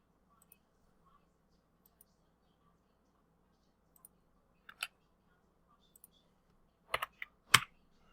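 Keyboard keys and mouse clicks while animating facial expressions in Unreal Engine 4: sparse, quiet, close clicks scattered through near silence, with a sharper cluster of louder taps toward the end.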